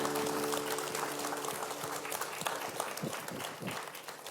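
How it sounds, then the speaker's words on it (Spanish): A Spanish-speaking church congregation gives sustained, dense applause, a steady wash of many hands clapping at moderate volume with no voices heard over it. "Dele un fuerte aplauso al Señor Jesús."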